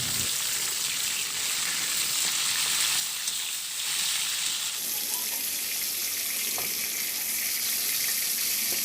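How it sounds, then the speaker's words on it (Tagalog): Marinated chicken frying in oil in a pan, a loud continuous close-up sizzle and crackle filling the whole stretch, with no voices. "Sa the same na kawali, iprito ko na yung minarinate nating chicken"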